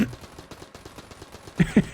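Gunfire from a weapon in the video game Enter the Gungeon, a slow string of soft shots followed by three louder, evenly spaced blasts near the end.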